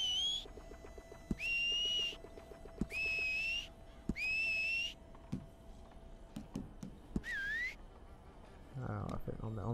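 A player's character whistling in Red Dead Redemption 2 Online, five loud sliding whistle phrases repeating over game ambience with a steady hum, ticking clicks and a brief horse-like snort at the end.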